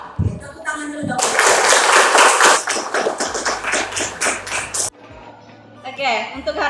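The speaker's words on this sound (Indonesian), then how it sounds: "Tepuk tangan dulu dong." A school class claps hands together on the teacher's request, a burst of sharp, close clapping followed by rhythmic patterned claps, with children's voices and a teacher speaking around it.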